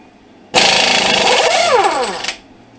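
Impact wrench loosening the 32 mm axle nut on a 2007 Honda Civic, one loud close burst of rapid hammering lasting about two seconds with a falling whine as it winds down.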